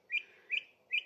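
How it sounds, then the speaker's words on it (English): Three short, bright calls from a green woodpecker in the countryside, evenly spaced and fairly clear against a quiet background. "Green woodpecker."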